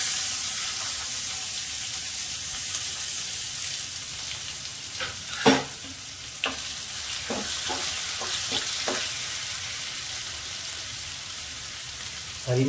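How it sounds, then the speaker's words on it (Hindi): Onion and garlic with cumin and coriander frying in a pan for a dhaba-style sev bhaji curry: a steady sizzle throughout, with a few louder clinks and stirring scrapes midway, no talking. "अब इसमें डाल देते हैं प्याज, एक प्याज छोटा प्याज लिया हुआ है, बस ज़्यादा प्याज नहीं डालेंगे, छोटा प्याज, और एक छोटी कली लहसुन की।"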